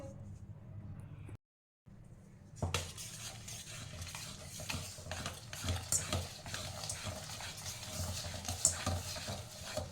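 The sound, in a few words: stirring palm fruit fritter batter mixture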